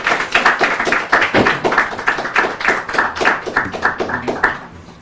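Church Bible contest audience for the Salvation Army Ghana Territory and Divine Healers Church teams claps in dense, continuous applause that stays loud and near before thinning slightly at the end.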